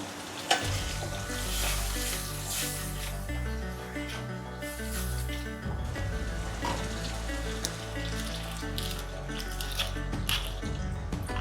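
Pasta being stirred in a hot pan with garam masala, a continuous close sizzle and frying hiss with soft stirring, under steady background music, no talk.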